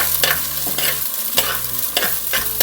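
Onion and green chillies frying in a pan while being stirred: steady close sizzling broken by repeated scraping strokes of a utensil at a brisk, uneven rhythm, with no voices.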